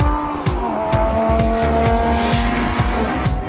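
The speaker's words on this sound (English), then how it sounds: "Listen to this V10 hum." Lamborghini Gallardo LP570-4 Superleggera, an all-wheel-drive lightweight car, with its V10 engine humming steadily and close, carrying a sustained tonal drone with rhythmic low pulses throughout and no talk.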